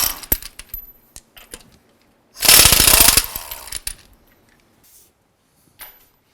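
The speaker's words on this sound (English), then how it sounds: "remove these lug nuts and get the wheel pulled off" Lug nuts coming off a Honda Civic wheel with a power tool: scattered metallic clicks and clinks, then one loud, about one-second burst of rattling impact, followed by a few faint metal taps.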